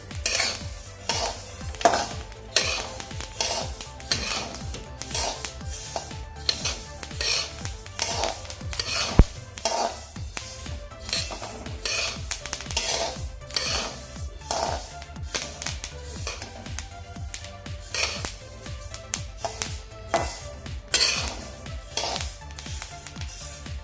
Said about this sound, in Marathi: आता आपण एक दोन मिनटं फक्त असेच हलवूया